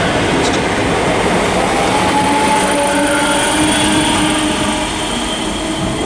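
Class 385 trains depart Haymarket station with a loud, continuous rumble of wheels on rail, thin squealing tones riding steadily above it throughout.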